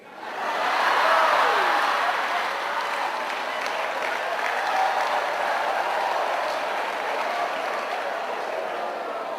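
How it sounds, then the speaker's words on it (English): Sustained crowd clapping during a motivational speaker's talk, rising quickly and holding a broad even roar of applause to the end, with faint voices mixed in. "What are you clapping at?"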